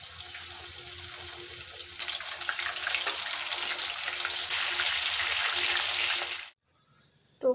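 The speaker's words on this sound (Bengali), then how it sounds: "বাকি সব চপগুলো একইভাবে ভেজে নেব।" Fish chops made from Bombay duck frying in hot oil give a steady, loud hiss and crackle that swells after a couple of seconds, then cuts off abruptly into near silence.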